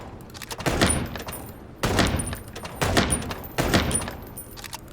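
Four loud, evenly spaced gunshots from the video game Chicken Police, each a sharp crack followed by a short ringing decay, standing out clearly over a faint background.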